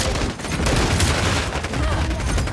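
Rapid video-game gunfire rattles in a dense, fast stream of loud shots and bursts, continuous and close throughout.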